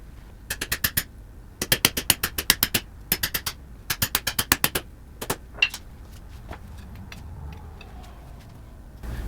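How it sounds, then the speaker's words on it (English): Ratcheting torque wrench clicking in quick bursts as it tightens concrete anchors drilled into a garage floor for a Max Jax lift, starting at about 50 foot-pounds; close, crisp pawl ticks in repeated runs of several clicks with pauses between. "I start with the torque wrench set at like 50 foot-pounds and then work my way up."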